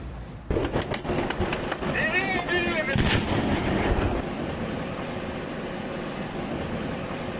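A tank cannon fires a heavy shot that booms out suddenly during combat in Sievierodonetsk, Ukraine, followed by a long rolling rumble that slowly fades, with voices talking underneath.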